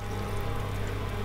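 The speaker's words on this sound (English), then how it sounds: "going to pour in all the spices and the paprika, my sugar, my water and my cider vinegar" Water and cider vinegar are poured with spices, paprika and sugar into a pan for sweet and sour smoky onions, making a brief, steady, close gush of liquid.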